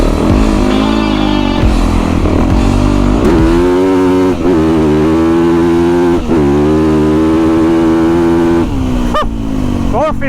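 A motorcycle engine revs hard up close, loud and continuous, rising and dropping in pitch through several sharp throttle blips, while a person's voice is faintly heard underneath.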